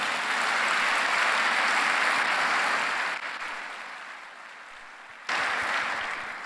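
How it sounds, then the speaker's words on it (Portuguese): Church congregation applauding during a Sunday worship service, a loud sustained wash of clapping that eases off midway, then surges again briefly near the end. "dê um aplauso a Jesus"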